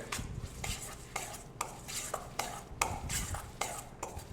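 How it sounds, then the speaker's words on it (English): A utensil stirs a salmon cake mixture of breadcrumbs and egg in a bowl, a rhythmic series of close wet scrapes and soft clinks repeating about every half second. "you're going to just mix everything together until it becomes somewhat homogeneous"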